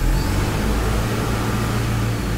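Toyota Fortuner engine being raced, a condition check for knocking, smoking and pickup drop; a loud, continuous roar close by without clear rises.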